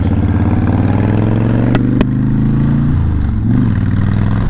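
A Honda Fury motorcycle is ridden, its engine a loud, steady low rumble with a brief shift in pitch partway through. No one talks over it.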